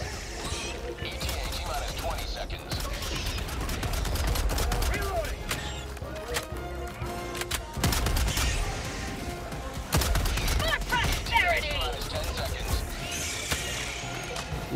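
Video game gunfire crackles in dense bursts under a busy mix of game sounds and rumbling, with several excited voices talking over the shooting throughout.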